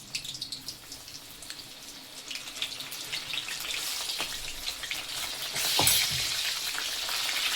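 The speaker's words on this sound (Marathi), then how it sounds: "आता आपण याच्यात सगळे थोडे थोडे दोन दोन बॅच मध्ये तळून घेणार आहोत" Sweet corn kernels deep-fry in hot oil for crispy corn, giving a close, crackling sizzle with sharp pops and spits and a louder burst near the end, with no talk.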